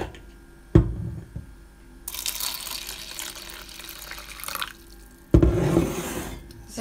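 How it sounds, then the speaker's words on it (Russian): Water pours into a container of budgie seed feed left to soak, a close splashing fill that starts, stops briefly and resumes, with a few clunks of the container. "Теперь заливаю водой"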